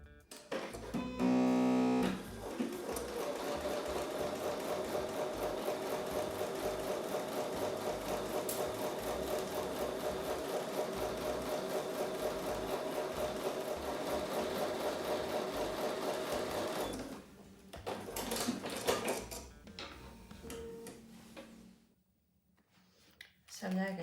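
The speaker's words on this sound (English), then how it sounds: "I'm going to take those over to the sewing machine and sew with a 1/4 inch seam" A sewing machine stitches quilt block pieces with a quarter-inch seam, running as a steady mechanical whir for about fifteen seconds after a short start, then stopping, with lighter handling noises afterward.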